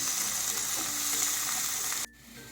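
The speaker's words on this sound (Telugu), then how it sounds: "ఒక నాలుగు పచ్చిమిర్చి ఈ బ్రౌన్ కలర్ వచ్చేదాకా వేయించుకోవాలి" Green chillies and onion fry in a pan, giving a steady close sizzle for about two seconds before it abruptly drops to a quiet background.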